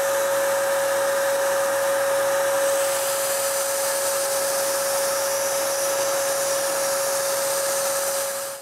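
A spray gun gives a steady, continuous hiss with a constant tonal whine, holding without a break for about eight seconds, loud and close, spraying wooden cabinet parts, then cuts off at the end.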